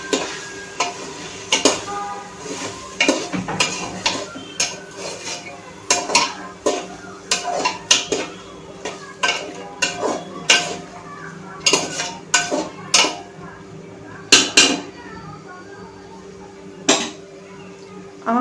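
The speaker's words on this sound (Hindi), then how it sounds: "अब हम इसमें ये मसाले डाल देंगे, ताकि मसाले भी तेल के साथ भुने अच्छे से।" Spices and vegetables frying in oil in a pan for matar pulao, with a soft sizzle under repeated sharp clinks and scrapes of a spoon stirring against the metal pan, loud and close.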